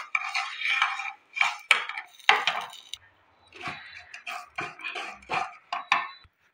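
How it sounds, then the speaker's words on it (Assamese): Sugar melts in a kadai for oats kheer while a spoon scrapes and clinks against the metal pan in short, rhythmic bursts with brief pauses, close and fairly loud, with no talking. "চেনিখিনি মই ইয়াতে মেল্ট কৰি ল'ম।"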